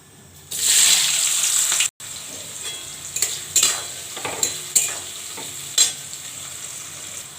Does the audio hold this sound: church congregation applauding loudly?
no